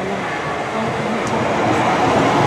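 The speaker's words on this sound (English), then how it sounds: "Platform 2, the approaching train is not scheduled to stop at this station" A train runs through a London station platform without stopping, making a loud, steady rumbling roar that builds slightly as it passes close by.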